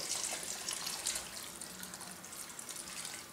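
Boiling water pours in a steady, hissing stream into a pot with a faint splashing texture, continuous and fairly quiet, no voices.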